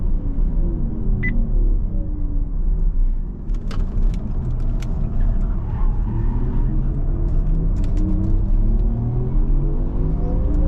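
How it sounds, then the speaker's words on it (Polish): A Porsche Taycan Turbo GT brakes hard on a race track, heard from inside the car as a loud, steady low rumble of road and drivetrain with brief light rattles and clicks. "Mocne hamowanie, dwa słupki niebieskie, przypominam, to jest hamowanie."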